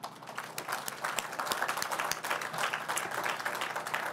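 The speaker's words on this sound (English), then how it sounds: "How about a round of applause for all of you?" Audience applause at an outdoor ramp opening ceremony for an Interstate 80 connection to Yerba Buena Island, a moderate steady clapping from a modest crowd heard at some distance.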